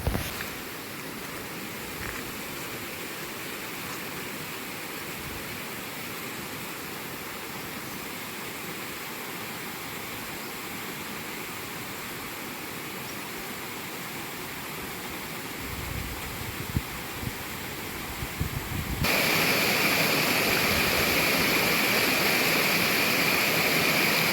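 Steady broadband rush of a river swollen by monsoon rain near a Kokan village, continuous and fairly loud with no voices, growing brighter and stronger over the last few seconds.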